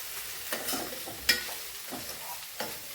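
A spatula scrapes through vegetables and cabbage sautéing in a hot pan, with a few distinct, close strokes over a soft, continuous sizzle and no voices.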